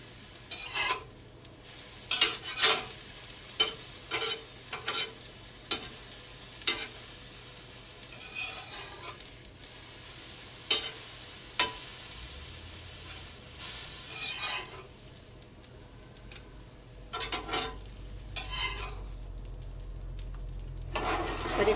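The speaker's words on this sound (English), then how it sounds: "You can scramble these too, make them like a scrambled egg, like that." Paw paw pancake batter is scrambled like eggs in a frying pan, with a soft continuous sizzle under repeated scraping, stirring strokes of a utensil against the pan, close up.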